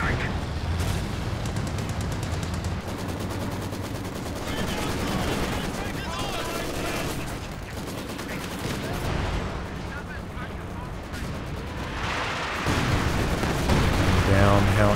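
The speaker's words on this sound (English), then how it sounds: "Barrage coming through, not hitting too much though." Artillery barrage in Company of Heroes 2, a 4v4 match on Redball, thumping and booming repeatedly as dense battle noise with gunfire layered throughout, steady and loud, with a voice talking over parts.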